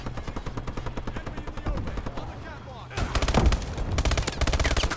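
An enemy rocket turret in a first-person shooter fires in rapid repeated bursts, loud and close, with the rattle growing denser and heavier halfway through amid game sounds.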